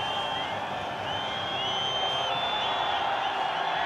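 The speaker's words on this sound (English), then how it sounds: "Navbahor being backed by a really vocal and strong crowd here" Vocal home crowd at Navbahor's AFC Champions League round-of-16 football match against Al Ittihad, a steady roar of cheering and whistles holding loud and constant throughout.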